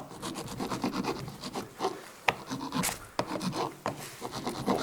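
Hard metal file rasping down a soft lead car battery terminal, a close, continuous rough scraping in quick back-and-forth strokes with a few sharper knocks.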